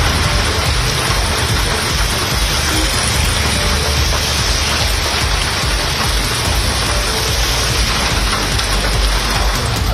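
Heavy rain pours down across Chennai as a dense, constant hiss of drops hitting surfaces, loud and unbroken with a low rumble beneath and no voices.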